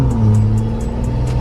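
A car accelerating through a freshly installed midpipe and chargepipe exhaust, a steady loud low drone with a deep rumbling tone held close and alone for the whole moment.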